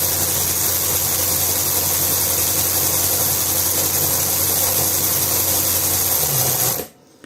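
A LUDYVI BL160 cordless ratchet wrench runs at full speed with a steady, loud high-pitched whirring hum held close, then stops abruptly near the end, leaving near silence.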